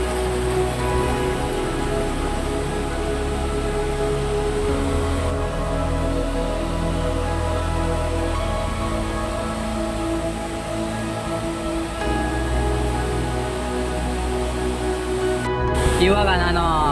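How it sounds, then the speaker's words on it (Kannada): Mukthi Falls, a waterfall reached on a trek, pours in a steady, loud, dense roar of rushing water that stays constant throughout, with a voice speaking faintly over it. "ಸಿಕ್ಕಾಪಟ್ಟೆ ನೀರು ಸೌಂಡ್ ಇದೆ"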